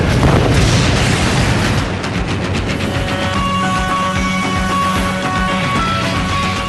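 Heavy, rumbling methane explosions roar continuously, a dense wall of booming blasts and crackling debris at close range.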